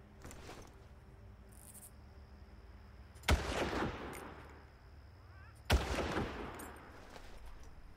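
Two sharp, loud sniper rifle shots in the Far Cry video game, about two and a half seconds apart, each with a long rolling echo, over steady ambient insect and wind noise.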